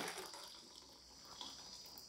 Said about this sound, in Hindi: इस बॉयल वाटर को आप एक बर्तन में डालिए